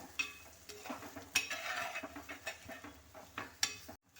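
Drumstick pieces and spice powders, chilli and coriander, are stir-fried in a pan, with a soft frying hiss broken by repeated scraping and clinking strokes of a utensil against the pan, close by and uneven in rhythm.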